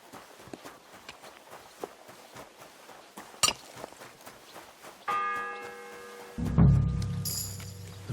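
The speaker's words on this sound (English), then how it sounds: "The first bell." In Kingdom Come Deliverance 2, a church bell strikes once with a loud, ringing tone that hangs in the air over footsteps and the clatter of a horse.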